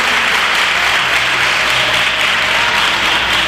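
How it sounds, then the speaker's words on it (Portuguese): A Portuguese-speaking church congregation gives a loud, thick, sustained round of applause during an evangelical service, a close and even wash of clapping from many hands that holds steady throughout. "Aplauda a grandeza do nosso Deus."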